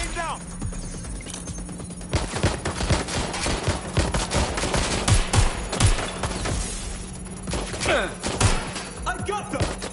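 Gunfire rattles through a shootout in the video game Watch Dogs Legion, with loud rapid bursts and single shots, thuds and a ringing alarm tone, while urgent voices shout over the fighting.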